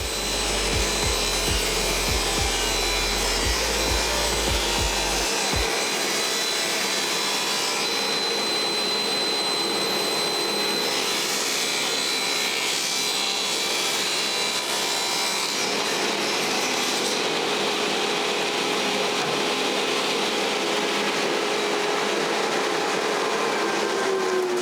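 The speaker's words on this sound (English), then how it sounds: "Since my table saw only has a 30-inch rip capacity, I rip it to 30 inches" A table saw rips a long cut through plywood, a loud steady whine and grinding hiss of blade through wood sustained for most of the span, without speech.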